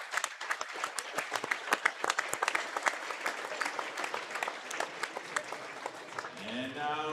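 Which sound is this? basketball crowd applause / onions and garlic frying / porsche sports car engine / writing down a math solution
basketball crowd applause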